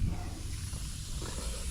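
Carburetor cleaner sprays steadily from an aerosol can onto a push mower carburetor, a continuous close hiss running without pause and with no talking.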